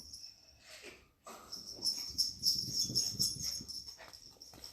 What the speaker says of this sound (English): My dog just got freed. She just woke up.